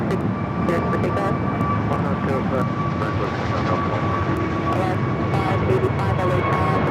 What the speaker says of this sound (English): Delta 914, wind 130. On a Cofax runway 6, cleared for takeoff.